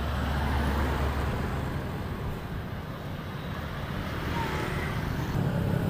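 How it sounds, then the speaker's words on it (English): Dense street traffic in Banda Aceh, Indonesia: a steady, loud roar of cars and other vehicles passing close by, continuous throughout with no talk. "if you can hear above the sound of the traffic"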